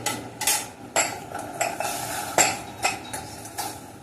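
Food sautéing in ghee in a pan over a low flame, with a utensil repeatedly scraping and clinking against the pan in irregular bursts over a soft, steady background.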